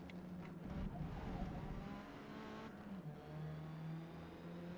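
Race car engine in Forza Motorsport, Hyundai Veloster N, droning at a steady high pitch with gear shifts and shifting revs, heard faintly and continuously.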